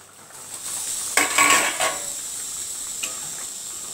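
A lid comes off a cooking pot with a brief clatter of metal, then a steady sizzle rises from the open pan.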